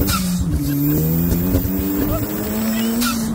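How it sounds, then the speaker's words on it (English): An Ariel Atom sports car driving hard on a race track, its engine a loud, steady, close drone with rising revs and pitch shifts, heard from on board. "We are jumping in with Simon in his Ariel Atom"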